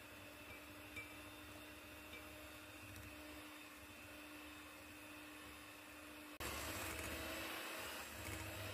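An electric cake mixer whirs steadily through thick banana chocolate cake batter, a constant motor drone that jumps abruptly louder near the end.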